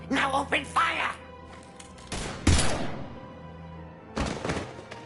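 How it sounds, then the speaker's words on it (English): Gunfire in the Mass Effect 3 video game, heard as a few sharp, loud broadband bursts in the middle and near the end, with game dialogue and ambient sound between them. "Now open fire!"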